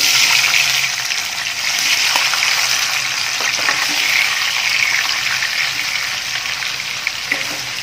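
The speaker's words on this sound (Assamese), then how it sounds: "অলপ ৰঙচুৱা হোৱালৈকে মই ভাজিম পনীৰকেইডোখৰ।" Paneer pieces frying in hot oil for a chole paneer dish, a steady close crackling sizzle that holds evenly throughout with no talking.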